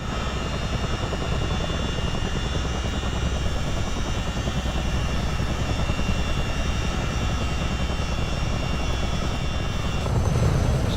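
The engines of a US Army Chinook helicopter run steadily in Microsoft Flight Simulator, a loud, constant turbine whine and rotor drone with no change in pitch from start to finish and no voices.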